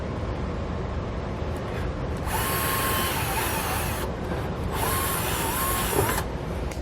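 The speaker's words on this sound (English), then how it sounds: "we're going to drill a small hole" Power drill boring small pilot holes underneath a 2018 Chevrolet truck bed for a B and W underbed gooseneck hitch, two whining bursts of drilling over steady background noise.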